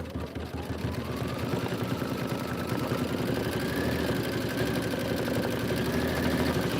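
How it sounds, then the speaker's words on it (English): Computerized embroidery sewing machine stitching tack-down lines for a Kimberbell County Blooms pillow, a steady close mechanical whirr and rapid needle rhythm running continuously throughout with no talking. "you're going to stitch your tack down lines"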